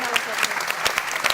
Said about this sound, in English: Let's just end with one final round of applause for our true experts today.